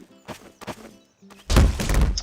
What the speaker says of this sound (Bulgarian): Ударихме тук дърво.